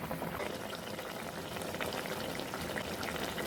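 Taila fish bhuna, an Indian salmon curry, cooks in a pan over medium to high flame, giving a steady, even bubbling sizzle throughout with no talking.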